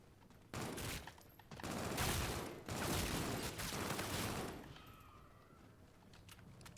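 Rapid bursts of gunfire from a gun in the Call of Duty zombies mode Beast From Beyond, several dense volleys in quick succession, fairly close, then tapering off.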